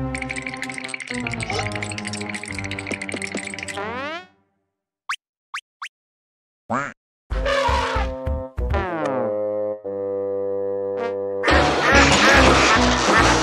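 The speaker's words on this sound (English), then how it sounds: "Quack, quack." The cartoon duck Pato from Pocoyo quacks several times amid playful cartoon music and springy boing and plop effects, loud and close.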